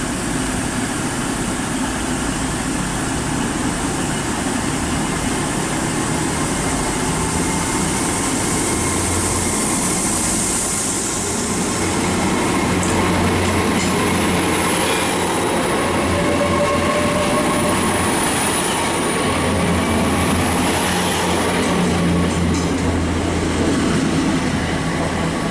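Great Western Railway Hitachi IET class 800 train, unit 800 004, departing Bath Spa station toward London Paddington, a steady rising rumble and hum of the train pulling away with a faint wheel squeal, no talk.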